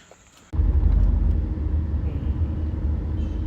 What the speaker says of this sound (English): Okay, so we are driving now.